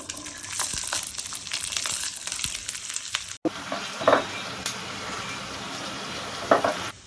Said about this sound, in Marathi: हिरवी मिरची लसूण आणि त्यामध्ये मी थोडस जिरं टाकून घेतलंय ते भाजून घ्यायचं आहे